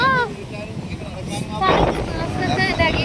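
Strong wind sweeps across a beach at night, roaring into the microphone in gusts that swell partway through, while a person talks over it.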